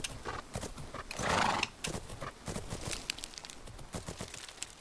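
In a video game, a horse canters at a fast pace with quick, rhythmic hoofbeats. A short neigh or snort rises in the middle over the steady gait.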